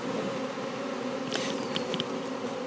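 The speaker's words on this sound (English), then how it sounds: "I can just watch the bees settle down" Honey bees buzz steadily around a hive after new queens are released, a dense continuous drone close by with a few individual bees whining past louder near the middle and end.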